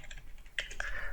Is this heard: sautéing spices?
no